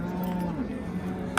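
A young bull calf under a year old gives a short low moo at a busy livestock market.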